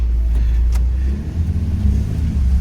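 A Toyota Matrix XRS with its 2ZZ engine rumbles loud and close from inside the car, a steady low drone that swells as it revs and pulls forward.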